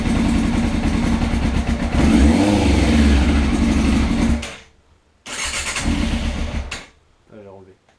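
Motorcycle engine revving with a newly fitted exhaust pipe during break-in, a loud close roar swelling and holding, cutting off, then rising again before falling silent, with a brief voice at the end.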